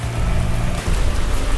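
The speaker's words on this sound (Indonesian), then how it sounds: "Sekarang kita dibawa Nikita main hujan-hujanan" Rain pours in a scene from the Indonesian horror film Nenek Gayung (2012): a dense, continuous hiss of falling water with a low rumble underneath, loud and unbroken throughout.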